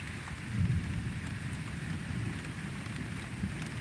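Steady rain during a night-time thunderstorm with frequent lightning, a dense even hiss with low rumbling underneath, continuous and moderately close, no voices.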